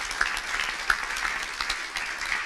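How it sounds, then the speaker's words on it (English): Audience applause for the sponsors at the Plone Annual Meeting, a steady, fairly faint wash of many hands clapping at once with a few sharper claps standing out, sustained throughout with no talk over it. "Round of applause for them."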